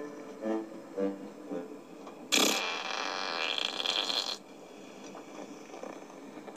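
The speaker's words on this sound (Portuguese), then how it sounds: "Então quem peidou?" A loud, drawn-out fart in a dark setting, roughly two seconds long and rasping, preceded and followed by quieter talk.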